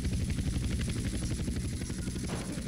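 Aircraft engine in GTA San Andreas multiplayer gameplay, a steady pulsing, rotor-like drone that stays loud and constant throughout, with no talk over it.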